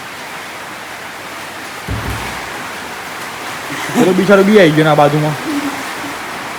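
Rainwater pours into a house with a steady, broadband rush like a stream. The flow continues unbroken beneath a dull thump and a stretch of someone talking nearby.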